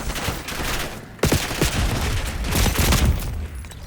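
Rapid bursts of 5.56 rifle gunfire in a video game shooter, loud and close, with sharp shots clustered in quick succession.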